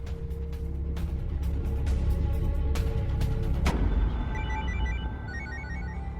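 An outgoing call rings on a phone at a house where a door stands open, with a faint repeating electronic ring tone that rises in the second half over a steady low rumble of room and traffic noise.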